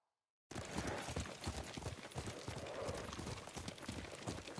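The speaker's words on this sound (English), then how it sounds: "What a good horse." Horse hooves clip-clop steadily in a video game set among Mongols, the trotting rhythm continuous and close after a brief silent start, with an occasional faint whinny.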